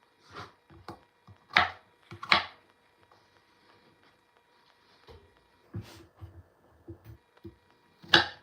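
Potatoes being chopped into wedges on a board, a scattered series of sharp knife knocks, some louder and some softer, with quiet pauses between them and no voices.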